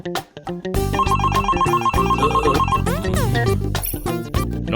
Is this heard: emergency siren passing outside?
no